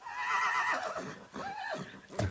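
A horse in the video game Far Cry 6 lets out a loud, close neigh that wavers and falls, then a second shorter whinny, with a few hoof clops under it.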